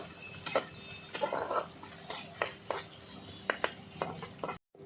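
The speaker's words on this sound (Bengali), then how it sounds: "টমেটো ভালো করে একটু কষিয়ে নিলাম" Onion and tomato sautéed together in a pan for a chickpea and potato curry, with repeated sharp spoon scrapes and knocks against the pan over a soft frying hiss, close up, ending abruptly.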